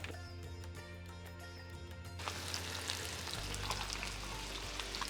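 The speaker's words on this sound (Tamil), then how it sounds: "இப்போ நம்ம வெங்காயத்தை போட்டுடலாம்" Chopped onions going into a hot pan of oil for rava kichadi. A faint background hum gives way to a fuller, steady sizzle about two seconds in, which continues quietly to the end.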